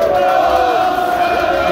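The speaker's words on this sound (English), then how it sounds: "Newcastle fans giving Arsenal the clap because they're finally singing" Newcastle football fans in a packed stadium crowd, a loud sustained roar of voices and chanting that fills the whole stretch without pause.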